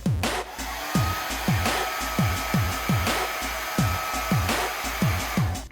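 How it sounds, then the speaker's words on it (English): A handheld hairdryer blows steadily at close range on a small wind-powered model car, a continuous whooshing roar with a regular pulsing low thump about every half second, loud and alone without any talk. "Now we can test it with a hairdryer,"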